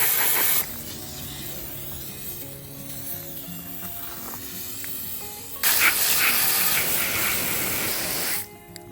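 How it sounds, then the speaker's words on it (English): Oven cleaner sprayed onto dark wooden furniture, two loud continuous aerosol hisses, one brief at the start and a longer burst near the end, with quieter rustling between them. "I'm going to use oven cleaner."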